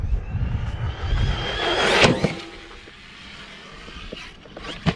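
An RC truck hits a ramp jump and lands, the motor whining up to a rising roar, then a sharp thud of impact followed by quieter rolling and a final knock.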